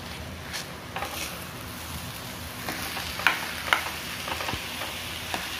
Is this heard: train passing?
no